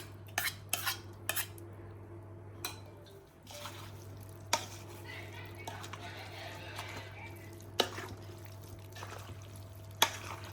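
A spoon scrapes and clinks against a bowl several times, close and fairly quiet, as custard is spooned into a fruit salad over a low steady background hum.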